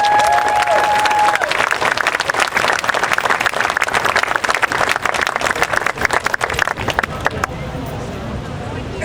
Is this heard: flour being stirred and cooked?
no